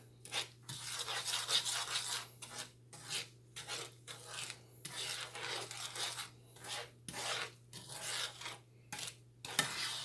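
Candied yams with butter are stirred in a pot on the stove, a repeated scraping and rasping in rhythmic strokes, close but quiet over a low steady hum, with no talking.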